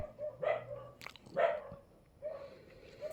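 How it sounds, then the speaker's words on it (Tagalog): Several dogs bark in bursts from a moderate distance, a few loud yaps separated by short pauses, with no talking. "ang daming mga aso na tumatahol"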